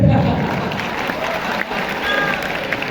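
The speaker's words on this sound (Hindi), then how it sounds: "सारे C ग्रेड वाले मेरे लिए ताली बजाते हैं।" A university summit audience at Islamia University of Bahawalpur claps together, a short burst of applause heard from within the hall with murmuring crowd noise mixed in.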